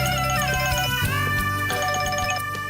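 A phone ringtone plays a steady electronic melody with repeating tonal notes, loud and close, inside a room in a Tamil TV serial scene, with no talking over it.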